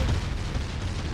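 Rapid-fire shots from the video game Naruto Shippuden Ultimate Ninja Storm 4 blur into a dense, loud barrage of booming bursts that rumbles on without a break, with no voices.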